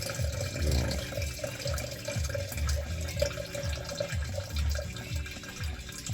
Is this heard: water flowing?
yes